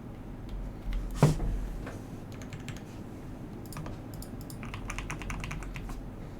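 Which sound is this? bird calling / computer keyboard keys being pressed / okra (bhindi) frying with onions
computer keyboard keys being pressed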